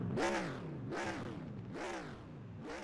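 A race car engine revs repeatedly in a Renegade Pro Cup Series racing game at Indianapolis, four rising and falling blips in a steady rhythm, loud and close.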